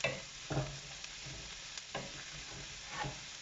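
Onions and aubergine being stirred in a frying pan: soft sizzling under several scraping strokes of a utensil against the pan, fairly quiet and close, with no voices.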